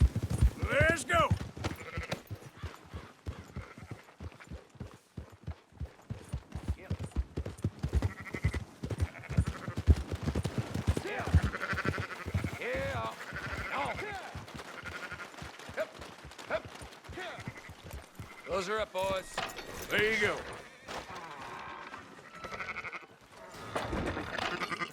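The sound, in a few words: sheep bleating in Red Dead Redemption II video game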